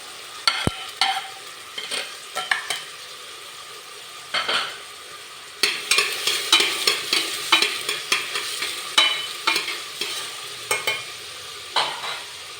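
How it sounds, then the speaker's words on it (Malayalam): Chopped onion sautéing in a pan for chicken mandi, with intermittent stirring clatter and soft sizzle, close and fairly loud, in bursts with short pauses and no talking. "എന്നിട്ട് 1 മിനിറ്റ് ഒന്ന് വഴറ്റി കൊടുക്കാം."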